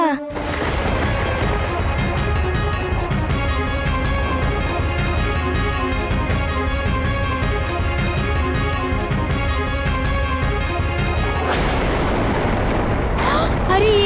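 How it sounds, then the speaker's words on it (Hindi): A volcano erupts in an animated mythological scene, a continuous dense roar of rumbling blasts and booming bursts layered with dramatic music, loud throughout with a fresh crashing burst near the end. "ये तो और विस्फोट हो गया"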